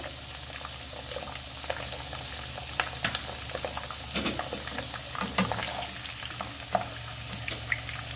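Potatoes fry in a pan at a low, steady sizzle with small crackling pops and occasional clinks, heard fairly quietly without any voice.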